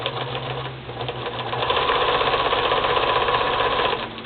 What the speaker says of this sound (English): I'm just going to sew both sides of that Greek key